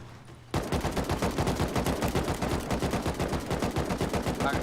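Turret in a video game opening fire after a quiet moment, then hammering out a long, evenly spaced stream of loud automatic shots at a fast, steady rate.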